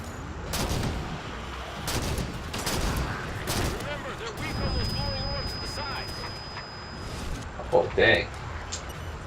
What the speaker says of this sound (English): he's using some artillery barrages here